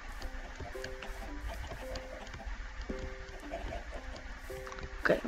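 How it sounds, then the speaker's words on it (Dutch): Chickens cluck in the Minecraft video game, with short repeated calls coming in irregular bursts over a steady low background hum, fairly close and moderately loud. "Ik hoor al die kippen."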